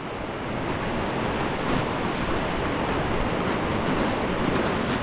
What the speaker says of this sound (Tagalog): Nalakas ang ulan uli.